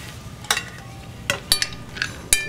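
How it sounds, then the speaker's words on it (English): Spoon stirring fresh parsley into a pan of fish on the stove, a handful of sharp metallic clinks and scrapes spaced irregularly over a faint sizzle, close and alone. "I've got a little fresh parsley put in there. Just going to stir that in."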